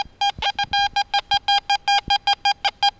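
Teknetics G2 UPG metal detector sounding over a 10-centime coin, a fast series of loud, evenly spaced electronic beeps, close and alone.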